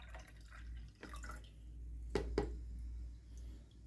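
Aquarium water is scooped up for acclimating tetra fish, giving a couple of brief close splashes and drips around the middle of the moment over a steady low hum, with no talking.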